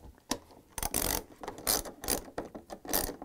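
A ratchet wrench tightens a bolt on a Samsung washer spider arm, rapid clicking bursts repeating in short strokes with brief pauses between, close and alone.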